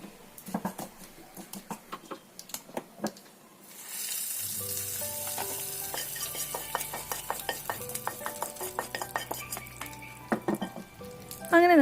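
Mustard seeds splutter and pop in hot oil while tempering a chutney: a steady close sizzle carrying dense, irregular crackling pops, with a few sharper taps before the frying starts and a brief loud burst at the end; no speech.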